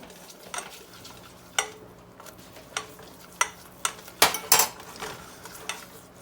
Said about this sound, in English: I'm going to slowly stir my flour in, because I don't want a big old clump of it